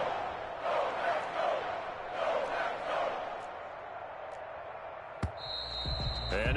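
A stadium crowd at a football game roars in a broad, sustained wash of noise as a short field goal attempt lines up, swelling and dipping, with a sharp knock near the end.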